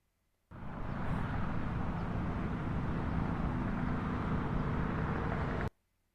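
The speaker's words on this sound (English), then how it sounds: "We could put freeway traffic. Let's give it a listen." Steady, dense roar of freeway traffic, a continuous broadband wash with no distinct passing vehicles, starting and stopping abruptly as an inserted sound effect, no voices.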